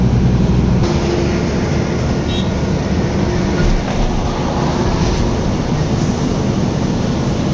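Train passing on a railway below a road in Gujarat, a steady broad rumble and rattle of rail cars heard alone and fairly close.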